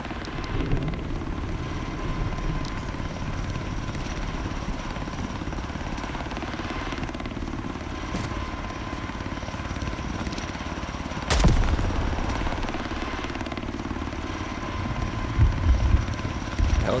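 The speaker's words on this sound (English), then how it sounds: "The helicopter doesn't even have his light on." A helicopter flies overhead in the video game Road to Vostok, its rotor drone steady and continuous for the whole stretch, with a brief sharp bang partway through and some low thumps near the end.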